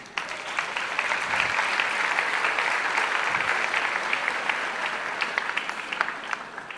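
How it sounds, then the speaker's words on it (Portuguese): Sustained audience applause for Lucas in a church gathering, a dense, even roar of many hands clapping at close range with no voices over it. "Vamos aplaudir a vida dele, gente"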